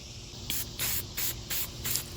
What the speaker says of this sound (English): Whenever you're spraying hardware like that, or any spray paint to be honest, out of a can, always do multiple light coats.